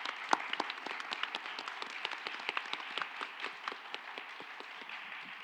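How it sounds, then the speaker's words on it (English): A panel event audience applauds its panelists with a scatter of many hands clapping at moderate loudness, sharp individual claps standing out before the sound thins toward the end. "If we could please give a round of applause to our wonderful panelists today"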